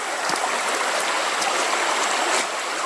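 Creek water rushing steadily past a cutover hunting area, a continuous close broadband flow with a few soft splashy accents and no voices.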